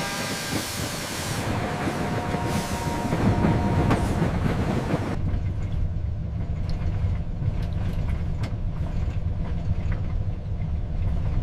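An old train salvaged from the bottom of a swamp rolls down the main line, giving a loud, steady mechanical rumble with a hissing layer throughout and no voices.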